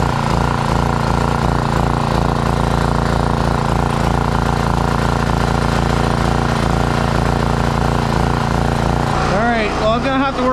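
A gasoline generator with a dirty carburetor runs loud and close, half choked, its rough droning engine pulsing unevenly before the pitch shifts and wavers near the end.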